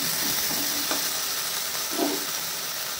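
Salted, boiled food gets stirred in a cooking pan, giving a continuous low sizzling hiss broken by a couple of brief spatula scrapes, close and with no talk.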